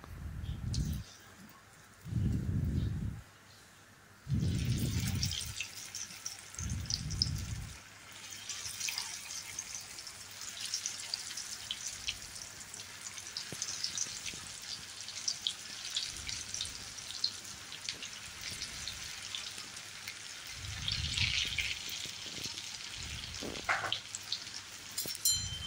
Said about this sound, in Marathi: या आपल्याला उलटून पालटून सोनेरी होईपर्यंत तळून घ्यायच्या आहेत.